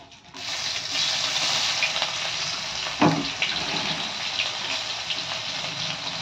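Bay leaf and sliced onion dropped into hot oil with kalonji seeds give a loud, steady sizzle that runs almost without a break, with a brief sharper crackle partway through.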